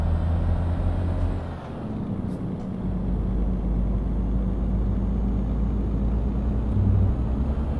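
Renault truck in Euro Truck Simulator 2 rumbling along with a low, steady engine drone, a brief air-brake style hiss and dip early on, then continuous motor hum with faint high tones throughout.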